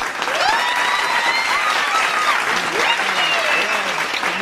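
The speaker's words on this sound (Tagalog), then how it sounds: "sige, palakpak." Steady, dense applause from a family gathering at a baptism celebration, filling the room evenly, with voices cheering and talking faintly through the clapping.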